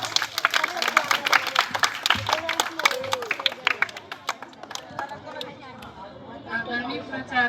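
Lively applause from a crowd at a school Independence Day celebration: dense, loud clapping for several seconds that thins out into crowd chatter and voices.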